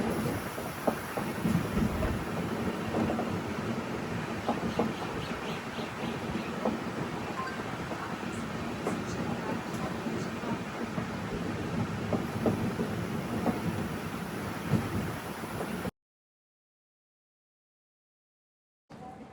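Steady rumble and rhythmic clatter inside a general-class coach on a train running from Kanyakumari into Kerala, continuous and fairly loud for about sixteen seconds before cutting to near silence, with no talking.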